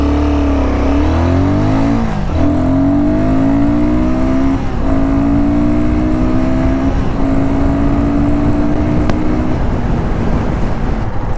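Royal Enfield Guerrilla 450 motorcycle accelerating hard from a standstill to 100, engine revving up through several gear changes with brief dips between shifts, loud and close with strong wind rush and no talk.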